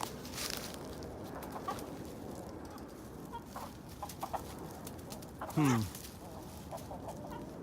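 Chickens cluck softly in the background, with one louder, rising squawk that could be a rooster, amid faint outdoor ambience.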